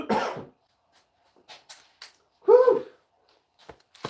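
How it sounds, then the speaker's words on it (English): A person coughs, first with a short harsh burst, then a louder, throatier cough with clearing after a pause, plus a few faint scattered clicks and breaths in a quiet room. "I'm coughing that crap out of my lungs still"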